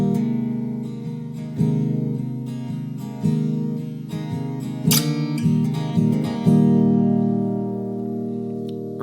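Electric-style guitar playing the chorus chords of a song, sustained strummed chords with a few sharp accented strikes, played close and alone with no voices.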